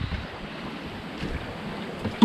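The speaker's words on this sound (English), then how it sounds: "We're goose winging in about 20 knots of wind." Blustery wind of about 20 knots buffeting the microphone aboard a goose-winged sailboat on the open ocean, with a continuous low rush of water and waves along the hull.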